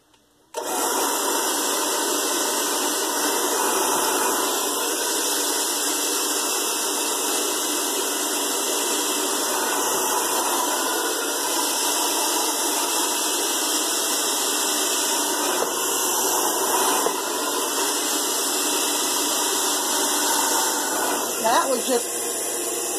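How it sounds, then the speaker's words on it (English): A handheld hair dryer blows with a loud, steady whine while hair is styled with a round ceramic barrel brush, running continuously after a brief start. "Now I do have the hairdryer in my hand now, and it's going to get noisy."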